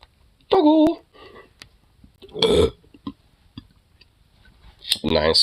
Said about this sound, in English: That was actually a nice little burp.